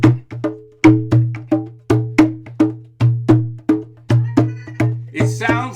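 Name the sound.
small djembe drum playing a rhythm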